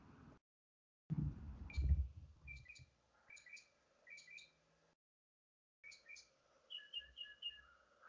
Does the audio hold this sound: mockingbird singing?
yes